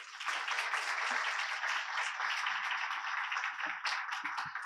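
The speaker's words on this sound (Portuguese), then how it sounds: "Salva de palmas, por favor." Audience applause at an EU AI regulation panel as a panelist is called to the stage, a dense and fairly quiet wash of clapping that holds steady throughout.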